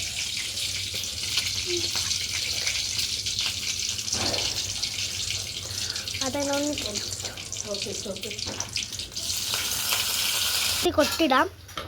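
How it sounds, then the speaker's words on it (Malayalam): Mustard seeds and curry leaves sizzle in hot oil while tempering peanut chutney, a steady close frying hiss with crackles and brief sputters throughout, under a low hum. "അത് കഴിഞ്ഞ കയ്യിൽ നിന്ന് കടുക്, വേപ്പില ഇത് നമുക്ക് താളിച്ചെടുക്കാറുണ്ട്."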